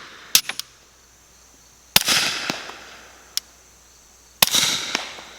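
A suppressed Lipseys Retro Glock P80 pistol fires LAX reloads: three sharp, muffled reports a couple of seconds apart, each trailed by a brief hiss and followed by small clicks, close with no talking.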